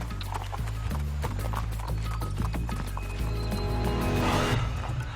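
Hooves clop steadily as a horse walks along a trail, close and fairly loud, with rustling underfoot and no talking.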